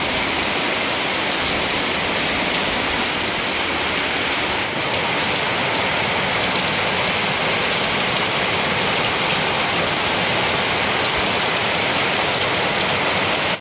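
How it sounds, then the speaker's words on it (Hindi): Very heavy rain pours down in a dense, unbroken hiss, loud and close, holding steady from start to finish with no voices. "बहुत तेज़ बारिश हो रही है गाइस"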